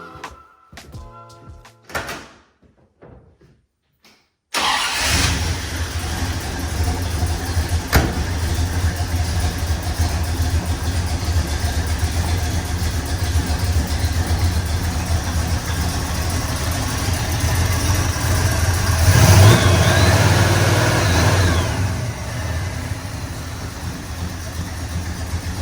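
A 1966 Pontiac barn find that has sat since 1992 cranks, fires and settles into a loud steady idle, swelling briefly with a rev, after a few clunks and door sounds.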